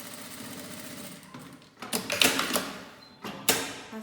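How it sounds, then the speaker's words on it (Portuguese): Sewing machine stitching a seam on a fabric toiletry organizer bag, running in short rhythmic bursts of mechanical whirring and clatter, close and fairly loud, with brief pauses between runs. "Passei a costura."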